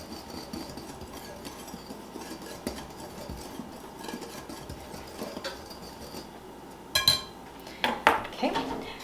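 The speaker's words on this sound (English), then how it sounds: "I like to use a whisk, but you can use a couple of forks if you do not have a whisk." Whisking dry ingredients for cherry chocolate scones in a bowl: soft, continuous scraping and stirring with occasional sharper clinks of the whisk against the bowl, louder bursts near the end.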